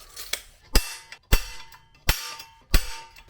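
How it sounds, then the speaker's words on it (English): A center punch struck against metal on a mini bike frame, four sharp, loud metallic hits spaced roughly evenly, each ringing briefly before the next. "So now I'm going to hit these with my punch and drill them out."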